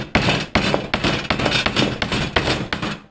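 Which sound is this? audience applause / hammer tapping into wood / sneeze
hammer tapping into wood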